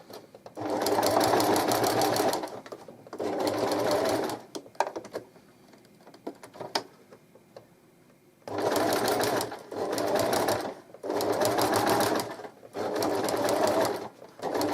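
A sewing machine stitches a simple double-sided baby blanket, running in steady bursts of one to two seconds separated by short gaps, with a longer quiet pause midway before a run of four more close, loud bursts.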